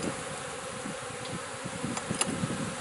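Honey bees buzz around a hive frame in a queen-rearing setup, a steady dense hum of many wings up close with occasional sharper passes near the mic.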